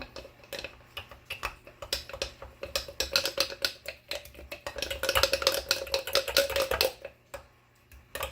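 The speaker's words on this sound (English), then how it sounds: "we're just going to stir to mix that all up" A spoon stirs flour and water into a sourdough starter in a jar, giving quick, irregular clinks and scrapes against the glass that build up in the middle and then stop.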